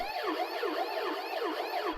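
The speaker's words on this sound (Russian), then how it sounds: "Полицейская машина, FX." A police car siren used as a sound effect in a UK drill remix, wailing up and down in steady repeating sweeps, loud and continuous throughout with no voices.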